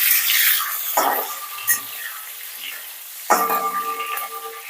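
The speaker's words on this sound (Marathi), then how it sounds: "मी सहा ते सात बारीक चिरलेली हिरवी मिरची घेतली आहे ती सुद्धा थोडीशी तेलावर ना एखाद मिनिटभर परतून घ्यायची आहे" Green chilies, six or seven finely chopped, frying briefly in oil in a pan, with two sharp sizzling bursts of frying and faint clatter between them, close and fairly loud, no talking.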